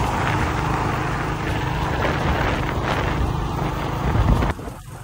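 Motorcycle ridden on the road, its steady engine drone buried under loud, continuous wind buffeting on the microphone for several seconds, then dropping away abruptly near the end.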